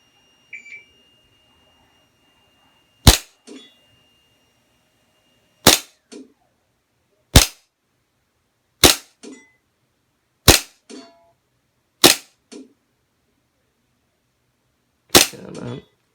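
Pistol shots on a Virtual-Shot shooting simulator ring out as seven sharp, loud reports at irregular intervals of a second or two. Each one is followed by a faint echo or click, against near silence.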